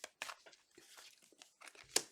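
Tarot cards get a quick final shuffle close up, a short run of crisp riffling, flicking and papery taps ending in a sharper snap, quiet and alone.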